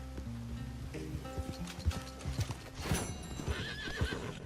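In Red Dead Redemption 2, horse hooves clip-clop in irregular steps, and a horse gives a clear whinny about midway, against faint ambient game sound.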